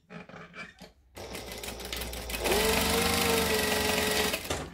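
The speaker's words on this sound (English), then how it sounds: "I'm going to stitch 1/4 inch down the short edges" A sewing machine stitches a quarter inch down the short edges of fabric for a shoulder bag, a close steady mechanical whir that starts after a few soft handling sounds and runs continuously.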